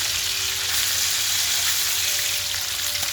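Hilsa fish fries in a pan with a loud, dense, continuous sizzle that stays constant as the pieces are flipped.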